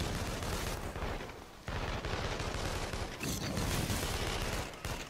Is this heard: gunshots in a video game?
yes